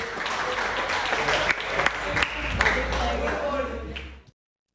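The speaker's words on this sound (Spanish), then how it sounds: "Muy bien, un aplauso." Church congregation applause at a workshop gathering, a dense steady clapping that runs for about four seconds with some voices underneath, then stops abruptly into silence.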